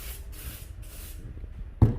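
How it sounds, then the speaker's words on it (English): Hedge trimmer blade cleaner or resin remover sprayed onto a Stihl hedge trimmer attachment blade in several short, close hissing bursts, followed by a single dull knock at the end. "now I simply just get your hedge trimmer blade cleaner or resin remover"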